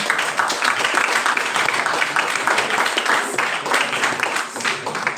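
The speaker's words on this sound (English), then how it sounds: "Please, can you give yourself a round of applause?" A youth development institute gathering gives itself a round of applause, sustained crowded clapping at even loudness with faint voices mixed in beneath it.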